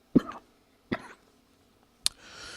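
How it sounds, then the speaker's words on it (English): Three separate coughs from a man, each a short sharp burst spaced under a second apart, close to the microphone in an otherwise quiet room, followed by a faint breathy hiss. "Sorry, I was about to cough."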